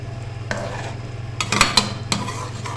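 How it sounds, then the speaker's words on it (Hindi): Fried chana dal is stirred in a pot over a low flame, with several close scraping and clinking spoon strokes against the metal above a steady low hum. "बस अब इसको अच्छे से करेंगे मिक्स"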